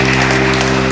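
A church congregation claps loudly in a continuous, energetic wash, layered over a steady sustained musical tone underneath.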